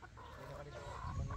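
A Gilmore gamecock rooster, born November 1, clucks close by with rough, throaty low calls that grow louder toward the end, over faint outdoor background.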